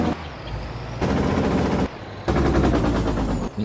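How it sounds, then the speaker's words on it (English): A truck's Jake brake in Farming Simulator 22 blats in loud, rapid staccato bursts that cut off briefly and resume, sounding close and harsh. "Can you toggle the Jake brake?"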